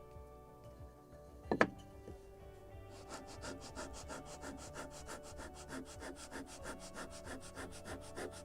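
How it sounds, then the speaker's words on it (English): Rhythmic back-and-forth rasping as the lower edge of a small wooden model ship part is sanded by hand, steady quick strokes, close and quiet, after a brief knock at the start. "I'm sanding lower edge"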